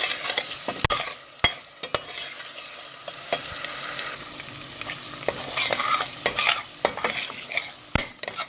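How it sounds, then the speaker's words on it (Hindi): Masala paste for a mutton kofta curry fries in a pan with a soft, continuous sizzle, broken by sharp, repeated scrapes and taps as it is stirred and turned, close and clear with no talking. "अब हम अच्छी तरह से मसाला भून लेंगे"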